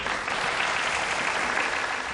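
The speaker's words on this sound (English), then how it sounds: "Crowd warmly applauding that break." A crowd at the 2005 World Pool Championship final applauds warmly, a dense, steady wash of clapping filling the whole short stretch at moderate loudness.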